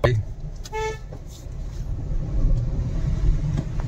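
A car drives along the road by the Bhakhra canal, its low engine rumble continuous and a short horn toot sounding near the start, with voices talking nearby.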